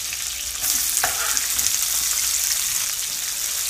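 Meatballs or meat being stirred with a spoon in a hot pan until browned, a dense steady sizzle that jumps louder after a moment, with a brief clink of the spoon.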